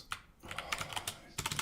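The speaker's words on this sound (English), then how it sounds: "Typing." Quick bursts of clicking keystrokes on a computer keyboard, close and fairly quiet, come in short irregular runs separated by brief pauses, with no talking.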